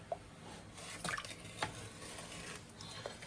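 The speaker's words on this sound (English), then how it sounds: "We need to just stir it round to make sure it doesn't all stick on the bottom." A spoon stirs sugary redcurrant jelly mixture in a pan, giving soft scraping and a few light clinks against the metal over a quiet, faintly sizzling background, with no talking.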